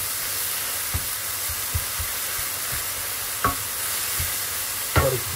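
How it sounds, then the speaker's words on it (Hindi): Spinach and garlic stuffing frying in a pan hisses steadily while a spoon stirs it, with several scraping knocks against the pan spaced a second or so apart, close up and with no voices. "ये पालक भुन गई है, अब हम इसको थोड़ा सा चलाने के बाद इसको हम निकाल लेंगे।"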